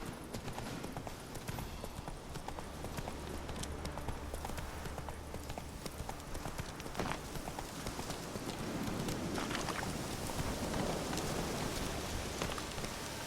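Roach the horse gallops in The Witcher 3, with a rapid, steady clip-clop of hooves running throughout over a soft rain-like hiss. The hoofbeats are close and continuous.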